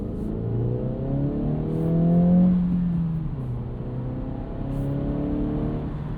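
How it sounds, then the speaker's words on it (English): A 2026 Acura Integra A-Spec revs and accelerates from a takeoff, its engine tone rising through a gear, dipping at the shift and climbing again, moderately loud from inside the cabin over steady road rumble, with no talk. "it's actually beneficial to rev this a little bit higher, 1600 RPM on a takeoff, because it is just smoother that way"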